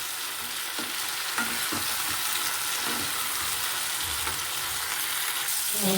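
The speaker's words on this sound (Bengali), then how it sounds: "এবার ফুলকপিটা দিয়ে আমাকে হালকা করে এই মশলার সাথে একটুখানি নাড়িয়ে নিতে হবে" Cauliflower frying with cumin, turmeric and chilli powder in a pan for doi fulkopi, with a loud, dense, constant sizzle and occasional soft scrapes of stirring.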